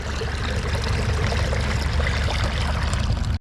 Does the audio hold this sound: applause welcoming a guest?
no